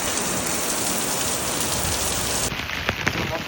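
Heavy rain in Kuwait pours down steadily, a dense close hiss of drops on hard surfaces that eases slightly near the end, with a few louder splashes standing out.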